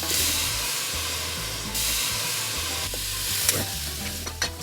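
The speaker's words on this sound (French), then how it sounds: "on fait revenir quelques oignons dans une casserole" Onions and venison sizzle and crackle loudly in a hot pan, with a continuous frying hiss and occasional stirring clatter.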